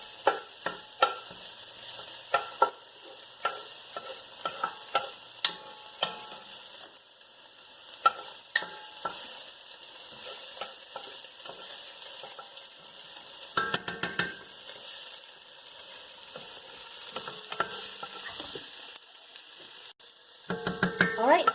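Onions sauté in a pan until browned, crackling softly and steadily while a utensil taps and scrapes at intervals, close by and fairly quiet, with no talking.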